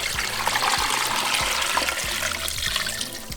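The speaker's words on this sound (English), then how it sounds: "we're going to fill it up with water." Water runs and splashes into a cooking pot holding meat, garlic cloves and bay leaves, a steady gushing pour with faint rhythmic thuds underneath, close by and fairly loud.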